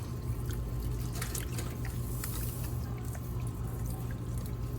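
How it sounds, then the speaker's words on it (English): Liquid baste poured over a smoked brisket in a La Caja China roaster outdoors, a steady low wet splashing and dribbling that runs continuously, close and moderately loud, with no talk. "I'm just gonna pour it on because the brush is not gonna work out here"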